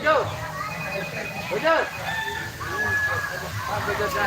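Hens cluck and a rooster crows amid a busy poultry-house din, several birds calling close by over steady background noise.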